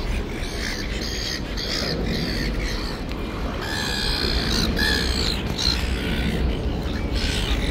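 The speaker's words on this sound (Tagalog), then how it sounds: "Nagpapakain ng ibon." A crowd of birds being fed at Circular Quay, Sydney, squawks and calls continuously, loud and close, with harsh overlapping cries against a steady outdoor din.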